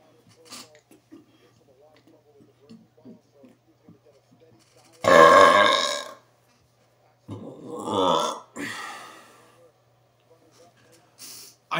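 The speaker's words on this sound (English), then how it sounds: "I feel like these burps are very short." After a gulp of a fizzy drink, a person lets out two loud, rough, close burps separated by a short pause, with softer mouth sounds and faint talk around them.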